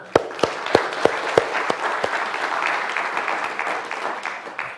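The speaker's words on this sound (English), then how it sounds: "Please stand up and take a round of applause." An audience at a learning conference bursts into applause, starting with a few distinct, loud individual claps that quickly swell into a sustained, even round of clapping.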